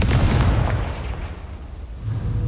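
A Confringo blasting spell goes off in the video game Hogwarts Legacy: one loud, booming burst that rumbles and slowly fades, with a low thud returning near the end.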